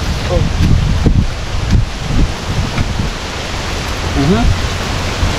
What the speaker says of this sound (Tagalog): Bumalik nga yung hangin, no?